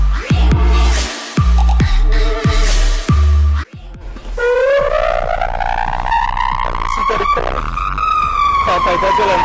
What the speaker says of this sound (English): The driver will engage the siren and move as fast as possible towards the scene of the fire